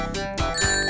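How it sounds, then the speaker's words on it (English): Sonic the Hedgehog video game sound of Sonic running out of air underwater: a brief, bright electronic chime-like jingle with a couple of quick pulses, loud and alone. "That was the sound of Sonic running out of air."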